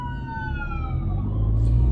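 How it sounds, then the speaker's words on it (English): An ambulance siren wails as it passes, its steady tone sliding downward in pitch over a low traffic rumble and growing louder toward the end. "There's an ambulance going by."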